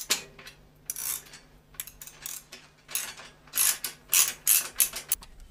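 Bike part being loosened or tightened with a ratchet during an enduro hardtail build, giving repeated bursts of mechanical clicking and ratcheting that grow louder toward the end, with no talk.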